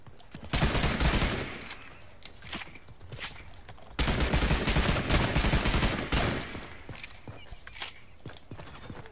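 A legendary assault rifle firing in a video game, dense rapid bursts of loud automatic fire in two long stretches with brief pauses between them.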